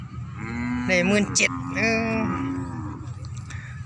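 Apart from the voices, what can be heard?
cattle mooing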